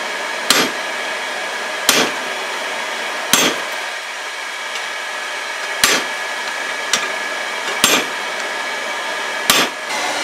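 Sharp metallic hammer strikes on steel at an anvil, dressing the faces of a hand-forged rounding hammer, ring out at uneven intervals, about seven loud blows over a steady hum, each with a bright clanging ring.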